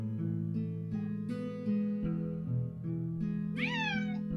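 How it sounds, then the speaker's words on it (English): Custard, a pet cat, meows indoors, with a drawn-out rising-and-falling meow near the end, heard over steady tonal background music. "Oh, I really hope you can't hear my cat."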